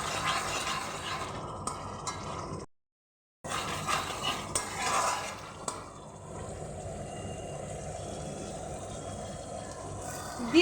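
New potatoes with salt and turmeric are stirred and sautéed in a pan for a vegetarian aloo dum, with clattering utensil scrapes against metal and a light sizzle, broken by a brief silent gap before stirring resumes more softly.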